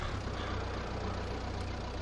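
A tractor engine in Farming Simulator 22 drones steadily as it drives through mud, a constant low rumble with a faint pulsing throb and no voices.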